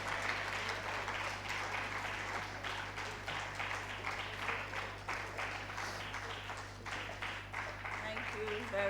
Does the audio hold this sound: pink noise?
no